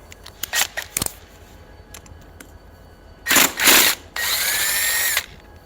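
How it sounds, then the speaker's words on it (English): Power tool working the crankshaft flywheel nut on a Yamaha Banshee quad, a few short clicks and bursts, then two loud whirring runs and a sustained high-pitched impact whine, close up, no talk. "So now we need to remove the crankshaft flywheel nut."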